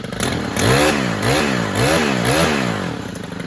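Stihl Kombi KM90R trimmer engine running steadily, its repaired drive shaft spinning, with a loud buzzing drone that swells in repeated rises and falls as the throttle is worked, close up with no talk.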